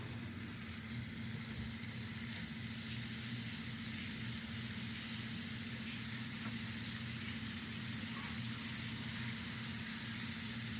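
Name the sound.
pork frying and sizzling in pan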